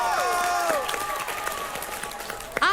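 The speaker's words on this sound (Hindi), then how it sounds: "जोरदार तालियां" Studio audience clapping on a competitive reality game show, a continuous patter of hands under whistle-like tonal effects and a brief sharp hit near the end.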